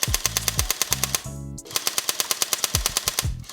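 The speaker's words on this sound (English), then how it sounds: "Pull it down one, now you got machine gun." Rapid, evenly spaced machine-gun fire from a VR game played with a gun stock clatters in a steady stream, broken briefly by a short electronic game tone partway through.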